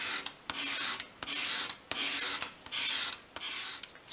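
A file rasping a sharp bevel on a small wooden piece, five or six even back-and-forth strokes in a steady rhythm, close and clear with brief pauses between strokes.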